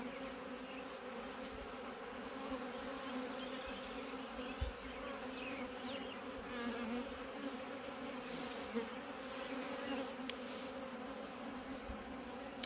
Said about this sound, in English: bees just coming and going from it like crazy